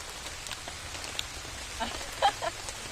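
Rain patters on surfaces in a soft, continuous hiss with scattered drop taps, and a few faint clucks from fowl rise briefly near the end at a rural home.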